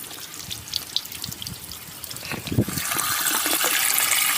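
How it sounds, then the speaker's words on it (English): A water hose flushes the rear drains of a BMW E46 convertible, with a close rushing and splashing that begins unevenly, then swells into a steady, loud stream of flowing water. "I got the water hose just flowing back there,"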